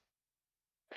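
A single close, loud sneeze bursts out at the end of a brief quiet stretch, during a Super Mario Sunshine lockout bingo race.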